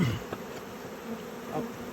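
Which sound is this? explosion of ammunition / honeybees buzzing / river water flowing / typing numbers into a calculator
honeybees buzzing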